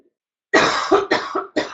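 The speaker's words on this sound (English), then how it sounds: "I have to cough." A few sharp coughs in quick succession, close and loud, after a brief silence.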